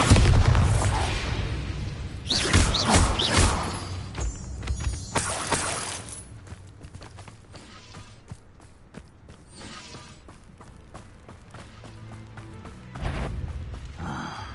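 Spell combat in Hogwarts Legacy, with the Bombarda blasting spell erupting in repeated loud booms and shattering crashes. Heavy bursts come early, then sharper scattered impacts thin out and a final burst lands near the end.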